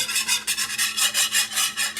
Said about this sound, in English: I'm going to whisk that in real quick.